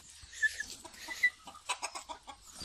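Ornamental Dutch crested chickens cluck nearby in a series of short, uneven bursts, with a few sharper squawks breaking through as a rooster fights.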